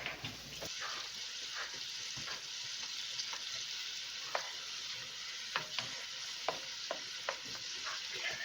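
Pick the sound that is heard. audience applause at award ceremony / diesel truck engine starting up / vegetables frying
vegetables frying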